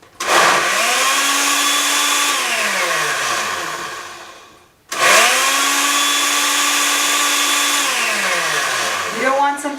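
A blender runs loudly in two long bursts with a brief pause between, blending thick hummus, its motor pitch dipping and rising as the contents churn.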